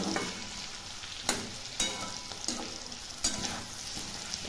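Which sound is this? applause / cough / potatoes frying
potatoes frying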